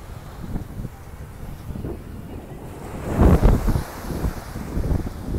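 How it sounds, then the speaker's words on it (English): On a beach at Playa Sosua in the Dominican Republic, wind buffets the microphone over a steady wash of surf, with one louder wave surge midway. "Another beautiful day on the beach."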